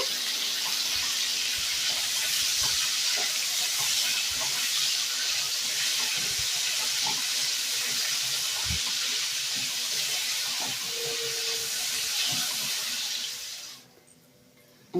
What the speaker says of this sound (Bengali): নুন আর হলুদ দিয়ে আলুগুলোকে আমি ভালো করে ভেজে নেব।